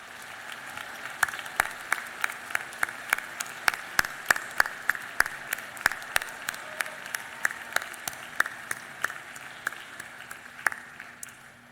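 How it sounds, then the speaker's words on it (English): Sustained audience applause at a college graduation ceremony, many hands clapping steadily for about twelve seconds with sharp individual claps standing out from the crowd. "Dave, would you please stand up so we can recognize you and give you a well-earned round of applause?"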